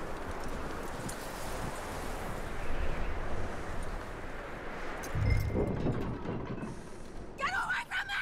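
Horse hooves from the Red Dead Redemption 2 video game, a soft clip-clop blended into a dense outdoor wash of ambience, with a brief thud midway and a voice coming in at the end.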